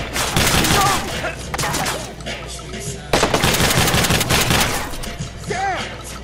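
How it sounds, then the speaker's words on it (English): An auto shotgun fires in rapid bursts during a Watch Dogs gunfight, loud and dense blasts crowding together with brief pauses between volleys, while a voice speaks briefly in the mix. "Damn, this auto shotgun's amazing."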